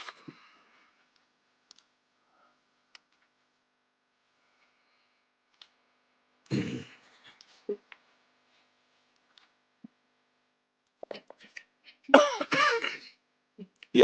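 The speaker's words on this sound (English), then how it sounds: "you're going to be hearing a lot of coughing this morning" A mostly quiet stretch broken by scattered small clicks, then a throat clearing and a rougher cough-like burst near the end.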